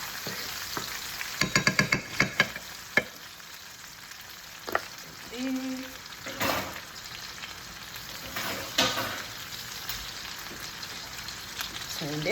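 Beef sausages frying in a pan, a steady close sizzle with a burst of sharp clattering pops and scrapes early on, then softer spattering and occasional knocks.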